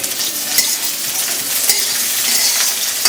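Ground paste of ginger, cumin, green chilli, pepper and garlic fries in hot oil with a steady, dense sizzle and a few stirring scrapes, cooked for a tilapia and potato curry.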